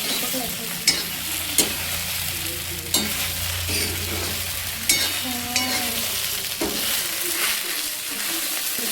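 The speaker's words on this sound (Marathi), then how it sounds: "आपली फ्राईड इडली होत आहे" Leftover idlis frying in an oily pan, a loud continuous sizzle broken by regular scraping and knocking of a spatula as they are stirred, no voices.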